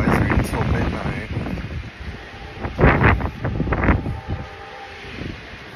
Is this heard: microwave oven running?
no